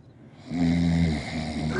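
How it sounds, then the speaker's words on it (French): A child snores loudly in one drawn-out, rumbling breath, close and steady, with no talk over it. "Regardez comment un enfant ronfle comme un caterpillar"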